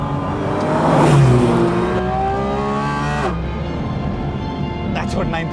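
A 2023 Porsche Cayman GT4 RS flat-six engine revs hard toward 9,000 RPM, a loud rising howl that peaks and then holds and falls, with a brief voice near the end.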